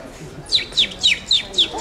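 Children imitate birds chirping, a short tweet roughly every quarter second, five or six chirps in a row, fairly clear and close, with faint voices beneath.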